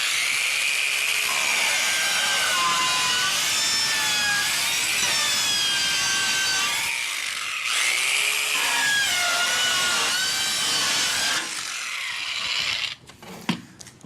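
A DualTools CS450 compact power saw whines loudly while plunge cutting into material, pushed back and forth with changing pitch, motor wavering throughout before winding down into a few clunks near the end, no talking.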